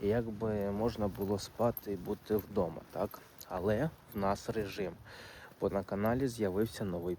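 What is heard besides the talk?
None of the usual background noises is heard.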